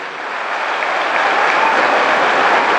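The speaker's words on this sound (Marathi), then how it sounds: "एकदा जोरदार टाळ्या होत्या तुमच्या मायबापासाठी." Loud clapping fills the hall as an audience at a comic speech in Jintur applauds their parents. The applause swells slightly and stays continuous and dense throughout, with no speech over it.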